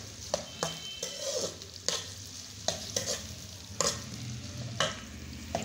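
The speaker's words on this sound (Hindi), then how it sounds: "ये प्याज हमारा तकरीबन थोड़ा सा फ्राई हो चुका है" Onion fries in ghee in a pan, giving a steady sizzle that runs under repeated scraping stirs from a spoon. The stirs land at a loose, regular rhythm, and the sound is close up with no voices.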